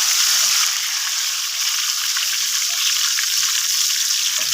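Cumin seeds sizzle and fry in hot oil for masoor daal, a steady, loud crackling hiss that continues throughout with no talk.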